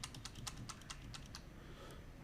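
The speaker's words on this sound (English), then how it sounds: "just typing it down" Quick, irregular clicking of keys on a computer keyboard, steady and close, with no talking.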